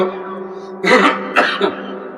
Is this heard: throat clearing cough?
yes